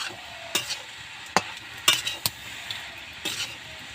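Fresh leafy saag stir-fried in a pan, with soft background frying and several sharp clinks and scrapes of a spatula against the pan spaced irregularly, no voices.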